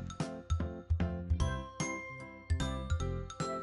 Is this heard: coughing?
no